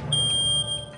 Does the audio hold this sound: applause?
no